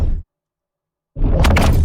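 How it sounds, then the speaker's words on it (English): Two hard stinger impacts for an animation sound design, a loud full-range hit cut off after a quarter second, then a gap of silence before a second dense, bright boom that swells and sustains to the end. "And then we have these stinger impacts."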